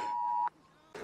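Phone emergency alert beep from a nationwide warning-day test, heard outdoors: a loud steady electronic tone lasting about half a second, cut off abruptly, followed by a second alert burst starting near the end.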